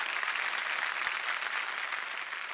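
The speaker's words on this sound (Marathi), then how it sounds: "जोरदार टाळ्या संस्कृतीसाठी झालं पाहिजे" Audience applause on a Marathi TV comedy show, dense even clapping from a studio crowd that holds steady and tapers slightly at the end, with no talk over it.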